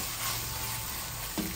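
Kaleji (liver) frying in a hot pan, giving a soft, steady sizzle heard close but faint, with a small clink near the end.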